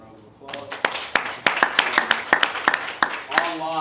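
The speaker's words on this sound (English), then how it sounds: "Please give a round of applause." Audience at a law school symposium breaks into a round of applause, sharp individual claps quickly building into a dense, steady patter from a modest crowd in a room.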